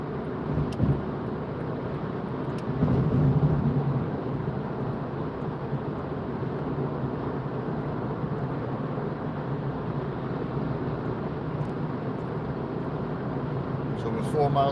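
A car cruising at about 55 mph on a UK road with a BMW nearby, heard as a steady, continuous road and engine rumble with a voice talking over it.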